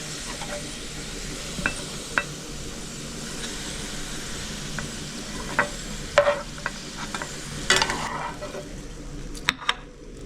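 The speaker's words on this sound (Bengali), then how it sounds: "পেঁয়াজ ভাজা তেলেই আমি চিকেন লেগ পিসগুলো ভেজে নেব।" Chicken leg pieces fry gently over low heat in oil left from browning onions, giving a steady soft sizzle with scattered crackles and a few sharper pops and clinks near the pan. No one speaks.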